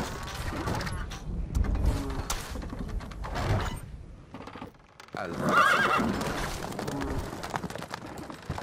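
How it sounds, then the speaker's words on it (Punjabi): Horses in the Stronghold Crusader strategy game whinny loudly several times amid a busy battle mix, with hoof clip-clop and scattered bird calls, no talk over it. "ਇੱਥੇ ਵੇਖਦੇ ਹਾਂ ਹੋਰ ਘੋੜੇ ਹੋਰ ਬਣਾਉਂਦੇ ਹਾਂ ਕਿਉਂਕਿ ਕਾਫੀ ਆਪਾਂ ਨੂੰ ਝਟਕਾ ਲੱਗਾ ਘੋੜਿਆਂ ਦਾ"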